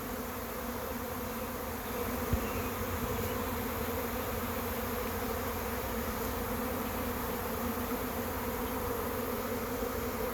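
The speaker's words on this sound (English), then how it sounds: "You can see the beard of bees starting to develop on the bottom of the box there." A honeybee swarm moving into a trap box fills the air with a dense, steady buzzing hum from many bees, constant and even throughout with no talk.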